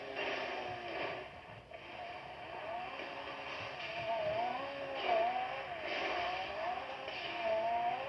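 NTN XF car driving in GTA 5, a moderate engine drone with wavering, rising and falling pitch like repeated revving and shifting, steady throughout with no voices.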